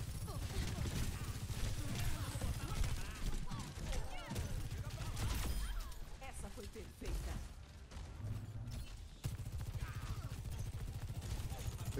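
Gunfire from Sojourn's weapon in the video game Overwatch 2, dense bursts of shots with mechanical clanks running through a busy match over steady background game noise.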